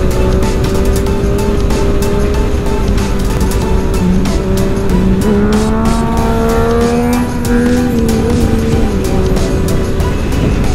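A loud, steady motorcycle engine drones throughout while riding, its pitch rising and falling slightly as the motorcycle moves, with rushing wind noise over it.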